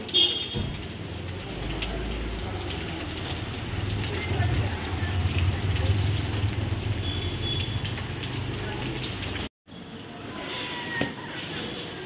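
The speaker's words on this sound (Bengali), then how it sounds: "ঝিরঝির করে বৃষ্টি হচ্ছে।" Light drizzle patters steadily at a hotel in Darjeeling with a soft, even hiss throughout, briefly cutting out near the end before resuming.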